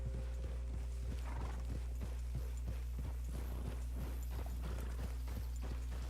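Horse hooves clip-clop in a steady walking rhythm in Red Dead Redemption 2, close and clear over a constant low game hum, with a few snorts mixed in.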